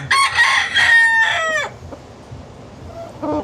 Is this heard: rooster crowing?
yes